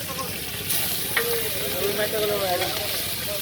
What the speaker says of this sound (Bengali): ডিম ভেজে দেবেন